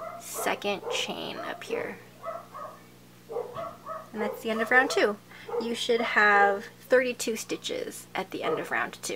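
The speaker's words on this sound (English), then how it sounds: "and my dogs are going crazy" Indoor dogs bark and whimper in excited bursts while a person keeps talking over them. The yips and whines weave through the speech at moderate volume.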